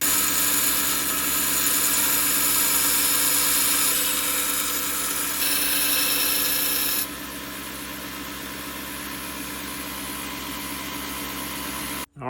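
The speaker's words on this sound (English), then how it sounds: "So we'll head to the grinder and I shall grind that other side." A grinder works the side of a bushcraft knife tang as it is tapered, a loud continuous whine and rasp of metal against the abrasive that drops slightly in level partway through, then stops abruptly.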